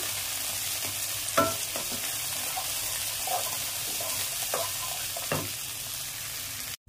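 Onions, mint, coriander and green chillies fry in hot oil in a pan with a continuous loud sizzle, broken by a few soft stirring knocks and scrapes, with no talking.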